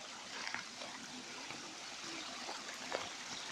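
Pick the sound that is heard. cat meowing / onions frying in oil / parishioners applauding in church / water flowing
water flowing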